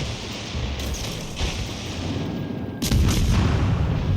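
Battleship guns fire in World of Warships Legends as heavy booms and a rumbling roar, with a louder, deeper blast near the end, steady and close with no voices.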